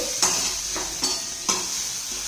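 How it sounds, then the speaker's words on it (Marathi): Green spring onion tops sauté in a pan with a constant sizzle, while a spatula scrapes through them in regular strokes about every half second. "मी ओली जी कांद्याची पात घेतलेली आहे ती घातली आहे। ती या ठिकाणी आपल्याला 2 मिनिटं परतून घ्यायची आहे"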